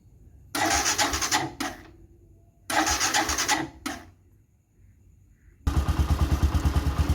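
A Bajaj Boxer X150 motorcycle engine with a weak battery is cranked twice in rough bursts that fail to catch, then on the third try fires up and settles into a loud, pulsing idle.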